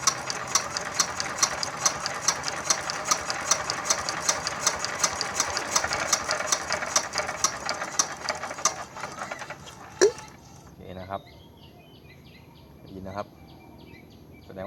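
A freshly rebuilt Yanmar TF115 single-cylinder diesel engine runs at its first start after overhaul, a steady rapid mechanical clatter close by that cuts off around ten seconds, followed by a few knocks and handling sounds.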